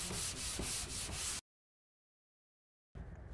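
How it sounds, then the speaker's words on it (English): Sandpaper rubbing along taped and filled plasterboard joints to flatten them level with the board surface, in about five steady back-and-forth scrapes, then a break, then the rubbing starts again, close and fairly loud. "we need to sand the joints so that they are nice and flat to the board surface"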